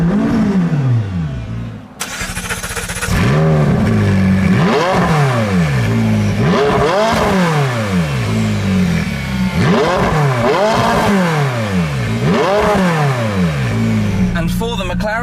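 A supercar, either a Ferrari 458 Speciale or a McLaren 675LT, starts with a sharp bark, then revs hard several times in rising and falling sweeps, loud and close, with the engine settling to idle between blips.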